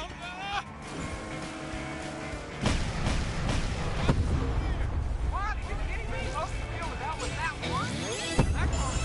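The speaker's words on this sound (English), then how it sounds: "Oh, there goes some tracking rockets." Tracking rockets firing in the Cars 3 racing video game, with sharp launch blasts and booming impacts over racing engine roar and whooshing effects, several hits spaced across the stretch.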